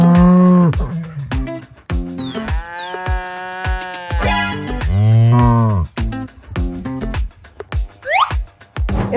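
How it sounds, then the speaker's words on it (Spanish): A cow on a farm at milking time gives loud, close, drawn-out moos and lowing calls, several in a row with brief breaks and some rising tones. "Aquí tenemos a nuestra vaquita."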